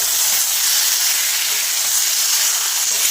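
Chicken goes into a pan of frying onion, ginger and garlic on high flame, and a loud, steady sizzle and hiss fills the moment with no pause.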